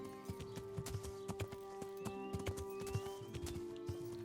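Horse hooves clop in a steady walking rhythm in the medieval role-playing game Kingdom Come, a clear close series of soft thuds over a quiet sustained ambient tone.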